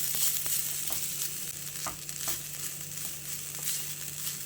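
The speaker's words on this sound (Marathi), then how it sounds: "इथे पॅनमध्ये मी तूप टाकलेलं आहे आता हे एक वाटी खोबरं घेतलेलं आहे हे छान परतून घेऊया" A bowl of grated coconut sautés in ghee in a pan for jaggery coconut rice, giving a steady, close sizzle with faint scraping stirs throughout.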